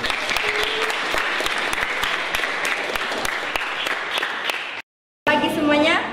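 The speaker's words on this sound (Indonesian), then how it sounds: "Coba tepuk tangan dulu." Students in a classroom giving a round of applause, steady dense clapping for nearly five seconds, then a short gap before a voice begins speaking.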